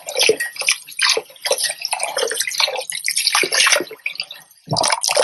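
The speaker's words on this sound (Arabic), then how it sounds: "وهلا راح نبلش نغسل الرز، نحط عليه مي، نغمره بالمي." Rice is washed by hand in water, with close, busy splashing, dripping and swishing that pause briefly near the end and then resume.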